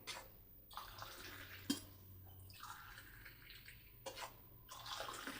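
Flaxseed drink poured back and forth between glasses to cool it, soft faint splashing pours in a few separate bursts with quiet gaps between them.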